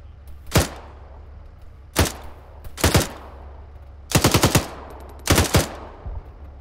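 Bursts of machine gun fire in a video game, five sharp volleys of varying length spaced over several seconds, some single heavy shots and some rapid rattling strings, loud and close over a low steady hum.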